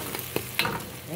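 Onions and tomatoes softening in a pan for chicken caldereta, with a quiet steady sizzle and a couple of soft utensil clinks, no talking.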